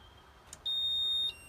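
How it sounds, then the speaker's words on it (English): A single steady high-pitched electronic beep from a Carthago motorhome's system sounds for about half a second after a faint click, then stops, leaving quiet background hum. "Once you hear the second beep, everything's working."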